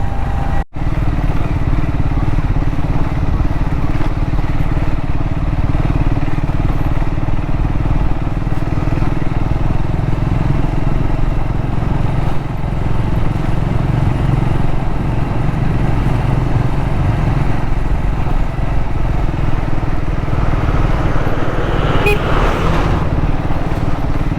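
Motorcycle riding an off-road mountain trail in Nepal between Pokhara and Jomsom, a steady loud engine drone with rough wind and road rumble throughout, nearby and uninterrupted.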